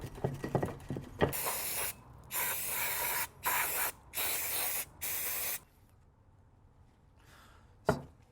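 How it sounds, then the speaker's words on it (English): Loud bursts of aerosol solvent sprayed onto BMW M54B30 engine parts during a rebuild, four long hissing blasts in a row after some clattering, then a quiet pause and a final short spray. "I'm gonna go spray this down with solvent."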